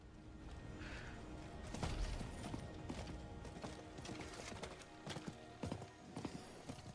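Hooves clip-clop steadily from a horse in a video game, a busy patter of close, sharp strikes layered over dense game noise and clatter.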